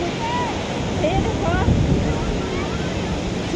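Ocean waves at Chandrabhaga beach near Konark, a broad, steady roar of surf with wind buffeting the microphone and faint voices chattering in the background.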